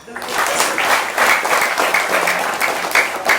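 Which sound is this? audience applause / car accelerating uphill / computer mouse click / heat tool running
audience applause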